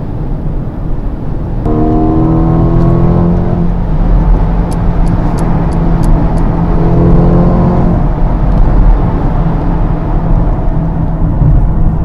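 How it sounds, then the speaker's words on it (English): A 2020 Mercedes-AMG GLB 35 4MATIC engine and exhaust in comfort mode drone at a subdued, steady level at night, rising briefly with acceleration, then settling back into a low hum. "Comfort mode, as you could hear, the sound is very reduced."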